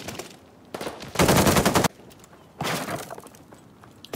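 A Bren light machine gun fires in a video game, two loud sustained bursts of rapid automatic shots separated by a short pause, close and crisp with no talk.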